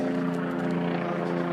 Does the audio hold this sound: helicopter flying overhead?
yes